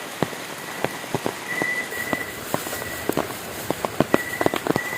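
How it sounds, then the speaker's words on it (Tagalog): Typhoon rain falls outdoors near a farm hut, with a steady wash of rain and sharp, irregular drops tapping close by on a hard surface. "Nag-ulan pa gihapon, pero okay ra."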